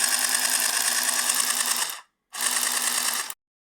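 A handheld stitching machine runs in two steady mechanical bursts, a continuous close whirring rattle of about two seconds, a brief pause, then about one more second before it stops.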